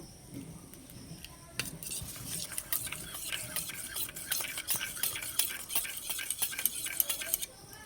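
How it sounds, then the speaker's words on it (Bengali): A spoon stirs cumin, chili and garam masala powder into chickpea cooking water in a bowl, giving quick repeated scraping clicks against the bowl, close and fairly quiet, growing busier after the first second. "এবার ছোলা সেদ্ধ জল দিয়ে মশলাটা গুলে নেব।"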